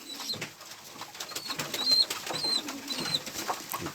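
Pigeons at an evening feeding, with soft intermittent cooing and chirping calls scattered through a busy, moderately quiet background of bird activity, no talking.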